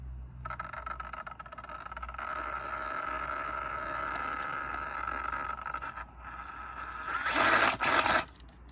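A brushless motor in an RC crawler spins the wheels with a steady, close whine lasting several seconds, then a brief louder surge of high-pitched revving just before it stops.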